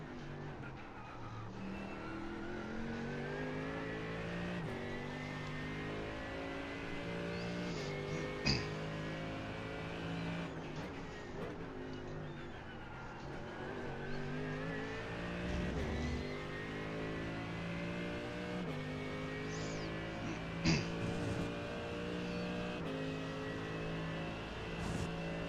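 Mercedes GT3 race car engine in the iRacing sim at Sebring, a steady loud drone with rising and falling revs through gear changes, a few sharp clicks and bumps over about twenty-five seconds, no talk.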